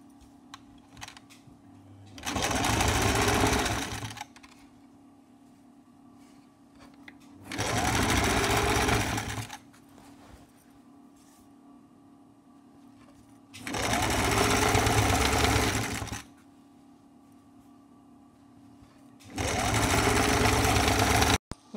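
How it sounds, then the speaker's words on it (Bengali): A sewing machine stitches the folded hem on a jacket sleeve in four separate bursts of rapid, buzzing whir. Each burst lasts about two seconds, and quiet pauses separate them. "এখন আমি নিচ বাজু সেলাই মারবো।"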